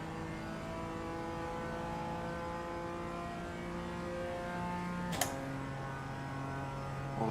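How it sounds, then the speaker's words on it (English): A GT3 race car engine at the Nürburgring Nordschleife during the 24-hour race: a steady, droning tone at constant pitch, with a brief sharp click near the end and no talk. "More GT3's coming."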